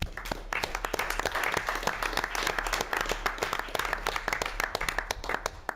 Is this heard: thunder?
no